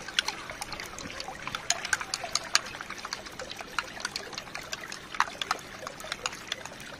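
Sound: stirring water mixed with dish soap

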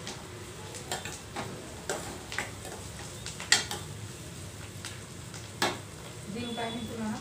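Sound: bitter gourd frying in a pan

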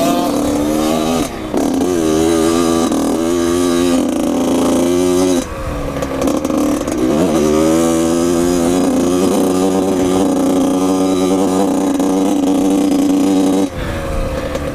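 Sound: Yamaha YZ80 dirt bike engine revving on motocross track

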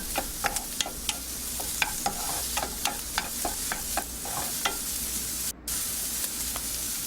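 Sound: minced garlic and onions sautéing in a pan

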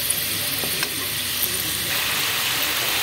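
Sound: vegetable croquettes frying in oil on low gas

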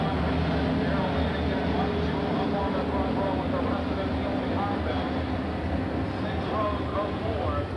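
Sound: dirt late model race cars racing four wide at Eldora Speedway

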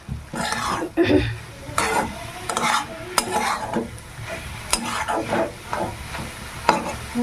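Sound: stir-frying red amaranth greens

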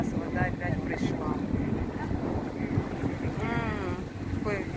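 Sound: wind on boat at sea

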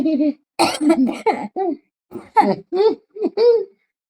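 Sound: cough

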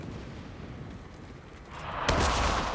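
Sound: landmine explosion in a video game

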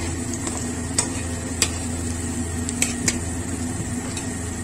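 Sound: onion pakoras (piyaju) frying in oil

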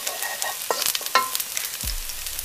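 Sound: garlic frying and being stirred in hot oil

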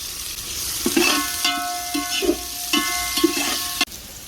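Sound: long-sliced onions frying for biryani

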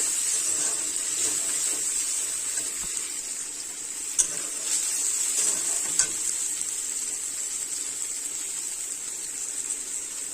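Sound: onion, chili and tomato being stirred and sautéed

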